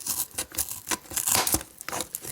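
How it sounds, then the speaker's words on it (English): Multitool scissors cutting through thick cardboard, close and fairly loud, with a run of ragged crunching, tearing snips of irregular rhythm and no talking. "The scissors will even cut through fairly thick, nasty cardboard."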